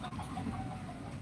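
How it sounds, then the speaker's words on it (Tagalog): A hen clucks softly in a home kitchen, a few low, faint clucks against steady room noise with no talking. "Meron kaming manok na naglimlim doon sa kusina"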